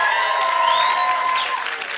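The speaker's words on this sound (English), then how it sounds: "Is this how you clap for yourselves?" Applause from a summit audience, a steady wash of clapping lasting about two seconds, mixed with sustained tonal sounds.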